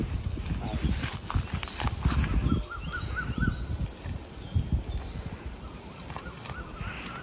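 A horse walks nearby with a steady clip-clop of hooves, mixed with outdoor background noise and a faint whinny-like tone, while people talk over it.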